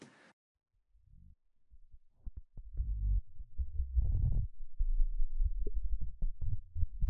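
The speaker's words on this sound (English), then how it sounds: "so just a glitchy little sound that I made using Reactor" Sparse, stuttering synthetic blips and low thumps made with Native Instruments Reactor, irregular and choppy, growing busier and denser toward the end.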